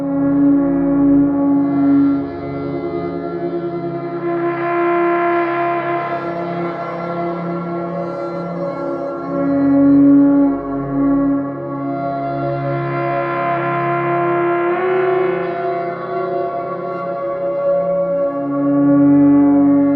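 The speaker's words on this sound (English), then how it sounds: "Now let's combine 2 stepper motors for 2 separate tones." Two stepper motors drone together as two steady electronic buzzing tones, continuously, with a low hum beneath and slow swells of brighter noise rising and fading.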